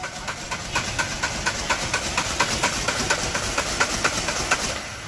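A Renault Duster engine with an overheating fault runs at a steady idle, giving a continuous low mechanical hum with regular ticking pulses roughly every quarter second, heard close and alone.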